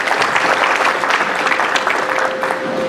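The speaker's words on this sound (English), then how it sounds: "Let's have a round of applause for all of those who have been part of that." An audience at an Indian ex-servicemen immigrant association's 25th anniversary celebration applauds, a dense, sustained wash of clapping from many hands filling the room.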